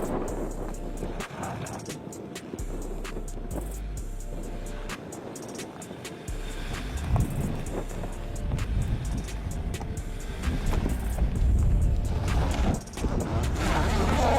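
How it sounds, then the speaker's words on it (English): A Hyundai Tucson SUV accelerates up a climb with its traction control working and wheels slipping, giving a steady engine and tire roar that grows louder toward the end. "Tucson accelerates, slipping before the start of the traction control system and slowing down the posted wheels."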